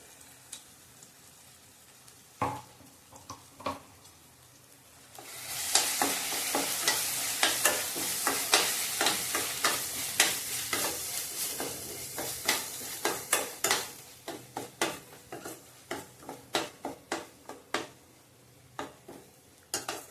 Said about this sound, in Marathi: आता आपण मसाल्याचे जे वाटप करून घेतलं होतं ते तेलात चांगलं तेल सुटेपर्यंत भाजून घ्यायचं आहे